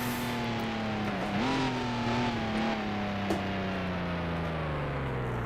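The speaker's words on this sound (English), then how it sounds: "I'll shift it into 4th. Let the engine slow the car down a bit." A 1955 race car engine in Grand Prix Legends held in fourth gear, its steady mid-pitched drone sagging slowly downward as the car coasts and decelerates, with no voices present.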